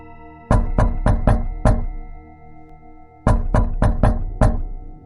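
Loud knocking on a door from outside: two bursts of five sharp, heavy knocks each, separated by a pause of about a second and a half, close and clear with nothing else over them.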